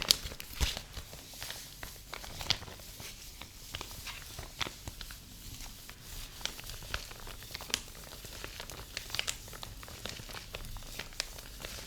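Plastic packaging that once held a set of coloured markers crinkles softly in close-up, with irregular rustling bursts and light taps over a quiet background, no voices.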